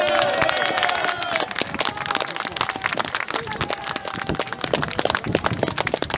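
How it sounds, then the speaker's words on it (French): Crowd applause at an outdoor demonstration on a town square in Beauvais, a dense, loud patter of clapping lasting throughout with some cheering and scattered calls mixed in. "Je vous prie de faire un tonnerre d'applaudissements à Bastien Régnier."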